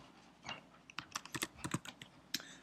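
Rapid, uneven clicks from a computer keyboard as a spreadsheet title is typed, close and quiet, with irregular bursts and short pauses and no talking.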